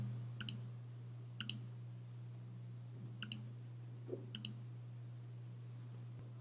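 Four quick double mouse clicks on a button in a Unity color palette tool, spaced irregularly, crisp and faint over a steady low hum with no talking.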